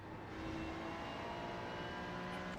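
Flat-plane naturally aspirated Corvette V8 racing in iRacing at Watkins Glen, heard as a steady, dense engine drone held at high revs with no talk.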